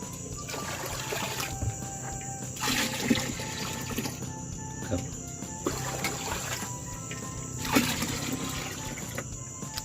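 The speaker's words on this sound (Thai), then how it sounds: "แค่เอาน้ำใส่ครับ" Water is poured into something in one steady, continuous stream, a close and moderately loud trickle and splash with brief surges, and no one speaks over it.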